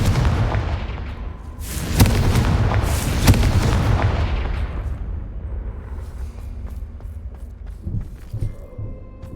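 A Confringo fire blast spell in Hogwarts Legacy on PS5, a loud booming explosive burst with crackling impacts that rumbles and slowly fades away, followed by faint scattered game noises.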